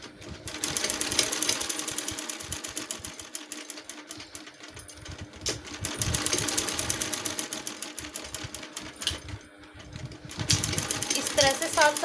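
A sewing machine stitches around a shirt neckline close to the buckram, running in loud, fast rhythmic bursts with brief slowdowns as the fabric is turned, and someone talks between and over the stitching.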